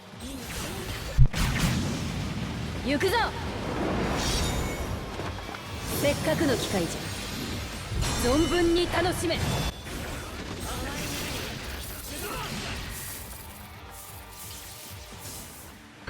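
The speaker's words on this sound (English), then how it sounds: "I'll play her soul bomb animation this one time, then skip it for the rest of the video." Yoruichi's soul bomb special animation in the mobile game Bleach Brave Souls, with swooshes, impacts, mechanical clanks and a sharp crash, plus in-game character voices over a dense, shifting layer of effects that thins out near the end.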